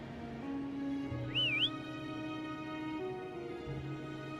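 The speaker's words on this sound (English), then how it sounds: "Try whistling." A single short rising-and-falling whistle calls a horse in the Wuthering Waves video game, brief and clear over a steady ambient music bed.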